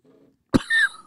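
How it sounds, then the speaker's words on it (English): A single sharp, loud cough after inhaling a hit of cannabis concentrate, preceded by a soft exhale and followed by a raspy wheezing breath. "Or does everyone cough"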